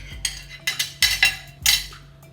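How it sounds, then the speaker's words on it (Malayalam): A mixer grinder jar is picked up and set down in a home kitchen while a kovakka (ivy gourd) chutney is being made, giving several close, bright clinks and knocks of metal and hard plastic in quick separate bursts. "ഒരു മിക്സിയുടെ ജാർ എടുത്ത് വെക്കാം."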